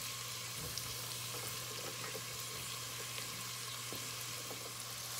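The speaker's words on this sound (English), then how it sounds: "Stirring as you go where that butter won't burn. Just toss it around, saute it." Onions sautéing in butter in a saucepan for creamy chicken noodle soup give off a soft, steady sizzle that stays quiet and even throughout, with no one talking.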